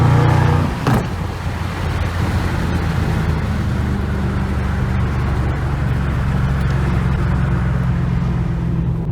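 2014 Shelby GT500 fitted with a Borla ATTAK catback exhaust, a brief loud burst at the start settling into a steady, low, rumbling engine drone while driving.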